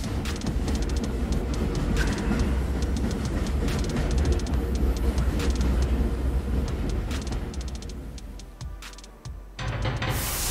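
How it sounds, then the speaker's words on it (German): Train arriving in the horror video game Close to the Sun, a dense, loud continuous rumble with rattling metallic clatter that thins briefly near the end before swelling again, heard alone without talk. "Da kommt der Zug."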